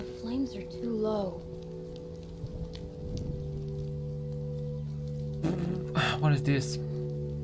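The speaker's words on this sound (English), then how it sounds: "Well, it's still raining." Rain falls steadily in The Walking Dead: Season 2 video game, a faint, soft patter under a low hum, with someone speaking briefly over it.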